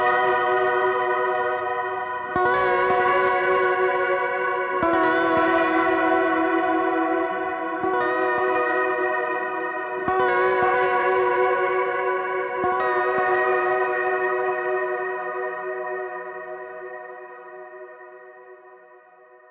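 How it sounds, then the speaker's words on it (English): An electric guitar played through reverb and delay pedals sounds a series of sustained, shimmering chords, each struck about every two and a half seconds, and the washy echoes slowly fade out at the end. "So the reverb and the delay add so much more to that effect."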